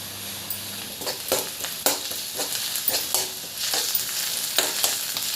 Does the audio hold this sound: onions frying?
yes